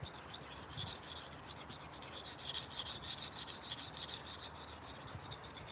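A knife blade rasps rhythmically back and forth across a sharpening stone in steady, close strokes, quiet but continuous with no voices.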